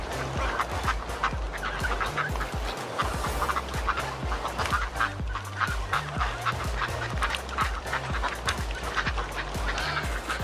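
A large flock of geese-like birds honks and gabbles on a city street, a loud, dense, continuous chorus of overlapping calls close by.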